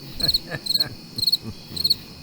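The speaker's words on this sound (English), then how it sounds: "Yeah, crickets." Crickets chirp in a steady rhythm of short, high trilling pulses, repeating four times and clearly up front.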